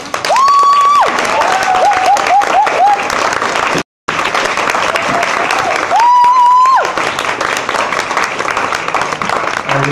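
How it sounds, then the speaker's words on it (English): A street fair poetry reading crowd claps loudly and continuously, with whoops and cheers rising over the applause. A brief dropout breaks the sound midway before the clapping and cheering resume just as strongly. "please clap"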